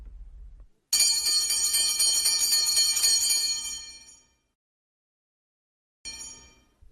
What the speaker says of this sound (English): the school bell is ringing